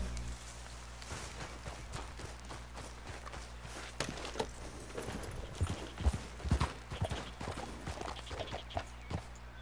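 Horse hooves clip-clopping in Red Dead Redemption 2, a steady walking rhythm of close, distinct hoofbeats over a low ambient hum, growing a little busier toward the end.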